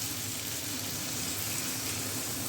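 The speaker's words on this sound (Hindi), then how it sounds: "आधा कप के करीब हमने पानी डाल दिया है" About half a cup of water is poured into potato masala for anda chingari, a steady, fairly quiet splashing pour that runs the whole time.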